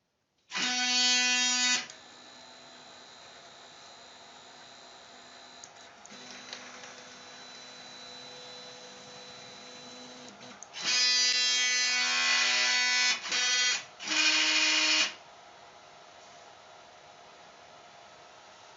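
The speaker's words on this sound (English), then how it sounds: "click the print, and the printing operation will begin" A 3D printer works through a print job with buzzy stepper-motor tones in loud bursts, separated by quieter stretches of steady mechanical whirring, no voices.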